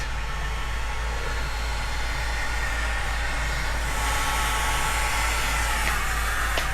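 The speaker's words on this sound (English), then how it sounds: "you can use the heat gun, hot blow dryer" A hot air gun or blow dryer runs steadily on vinyl wrap over an old cabinet, giving a constant loud whooshing blow with a low hum that holds for the whole stretch.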